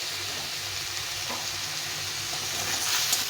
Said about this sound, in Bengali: এখন আমি এই মশলাটা দিয়ে দেবো, দিয়ে ভালো করে ভেজে নিতে হবে,